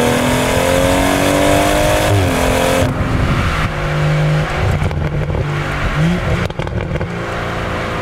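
BMW M140i fitted with an Akrapovic exhaust and no particulate filter, its engine revving hard: loud, close, rising and falling roars with sharp blips and crackles, no talking.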